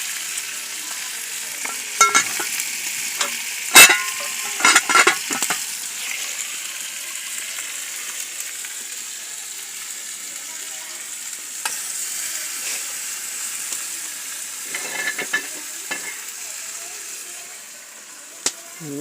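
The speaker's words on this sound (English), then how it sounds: "And this pot of curry in it, guys. Curry doing its thing." A pot of curry sizzles and fries outdoors with a steady hiss, broken by occasional clinks and scraping stirs of a utensil against the pot.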